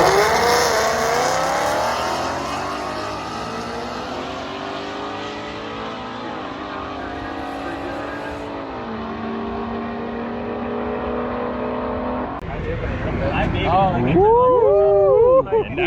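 Cars racing down a drag strip at track night, including an Audi RS3: a loud, sustained engine roar with rising and falling revs throughout, and people talking over it toward the end.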